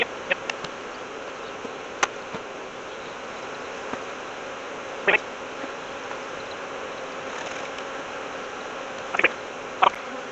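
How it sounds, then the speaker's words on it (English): Honeybees buzz steadily at an opened hive during a shake into a new box with fresh foundation, a dense continuous drone with occasional sharp knocks and taps. "I'm going to shake a load of bees into this other box with the queen"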